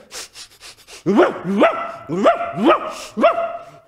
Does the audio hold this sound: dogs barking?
yes